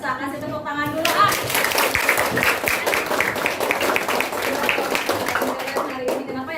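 Applause from a class of children at the end of a school lesson, a dense burst of many small hands clapping steadily for several seconds, with children's voices talking underneath.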